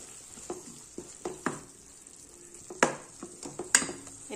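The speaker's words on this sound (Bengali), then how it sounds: "এবার আমি এর মধ্যে টমেটোটা দিয়ে দেব, এটাকে ভালো করে কষিয়ে নেব।" Tomato and spices sautéing in a pan for a Bengali fish curry with onion flower stalks, a low steady sizzle broken by occasional scraping stirs and sharp utensil clinks against the pan.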